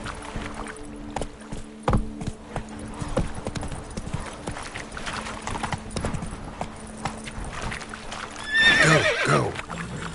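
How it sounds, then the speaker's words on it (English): Horse hooves clip-clop at a steady gallop in The Witcher 3, with a neigh rising near the end over an ambient background of flowing water. "Giddy up."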